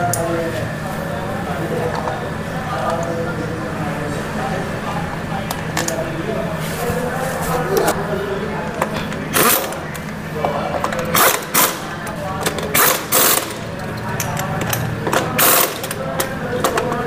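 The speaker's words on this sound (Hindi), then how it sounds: "अब हम इसमें तीन बोल्ट लगाने वाले हैं।" Three fan bolts tightened on a Honda Activa 6G scooter: quick bursts of ratchet clicking come in the second half over a steady hum, with talking underneath.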